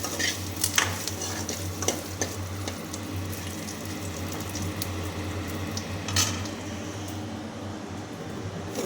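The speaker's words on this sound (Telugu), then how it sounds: "ఇప్పుడు మిరపకాయలు బాగా వేగినాయి" Red chillies frying in oil in a pan, a steady close sizzle with occasional stirring scrapes and faint utensil clinks, alone without talk, while preparing nalleru pachadi.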